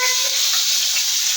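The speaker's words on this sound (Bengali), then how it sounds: "আমি যে তোমার মাছ ভাজতে আসছি, দেখো।" Fish fries in a pan, giving a loud, steady, close sizzle that runs through the short stretch with no voices.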